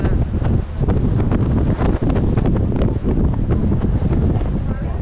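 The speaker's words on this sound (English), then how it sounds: "It's really windy" Strong wind on Catalina Island roars and buffets the microphone steadily throughout, a loud, constant rumble with gusty fluctuations.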